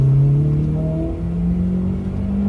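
A tuned ex-police car's engine revs up while accelerating, a steady droning tone climbing gradually in pitch, loud and close, with no voices.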